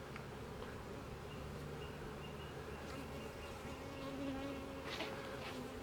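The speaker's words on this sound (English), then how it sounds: "So these bees are following her," Bees from an aggressive hive buzz around their queen in a continuous, fairly quiet insect hum with shifting drones as individual bees pass near.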